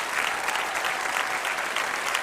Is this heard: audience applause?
yes